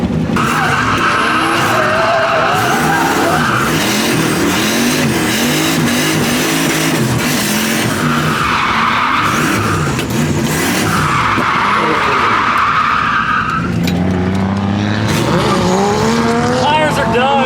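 A Miata drift car laps Shenandoah Speedway on mismatched tire sizes, tires skidding and squealing in long sweeping bursts over a loud, continuously revving engine, steady and close throughout.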